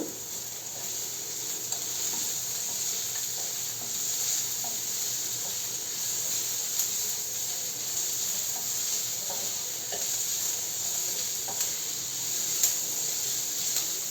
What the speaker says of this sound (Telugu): సన్నగా తరుక్కున్న ఉల్లిపాయలు బాగా వేగిపోవాలి.